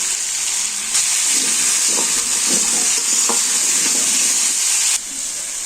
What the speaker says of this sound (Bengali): এবারে আলু দিয়ে ভালো করে ভেজে নেব